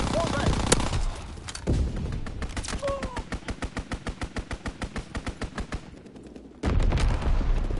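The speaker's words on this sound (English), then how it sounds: "Enemy strafing run inbound." A video game enemy aircraft strafing run, a long rapid burst of evenly spaced machine-gun shots that fades as it goes, then cuts off before a loud sudden noise returns, with a voice speaking briefly at the start.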